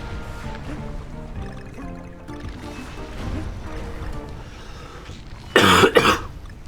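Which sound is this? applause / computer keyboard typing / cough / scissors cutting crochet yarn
cough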